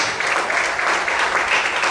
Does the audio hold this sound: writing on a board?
no